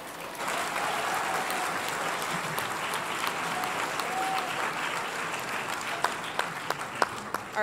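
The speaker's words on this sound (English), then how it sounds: "Let's give another round of applause for Olga." A crowd applauds steadily and fairly loudly throughout, with a few sharper individual claps standing out near the end.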